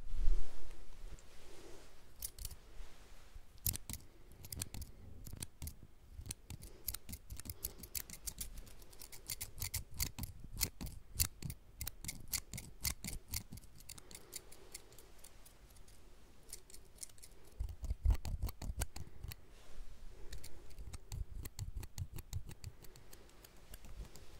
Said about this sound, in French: Un tout petit ciseau.